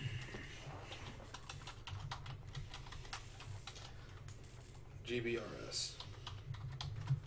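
Rapid, light clicking keystrokes on a computer keyboard during a PC gaming session, fairly quiet and continuous, with a brief spoken word over them.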